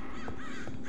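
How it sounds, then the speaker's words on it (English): A crow caws in the RLCraft modpack of Minecraft, two harsh calls in a row, loud and close over a steady game hum, with no talking. "Birds."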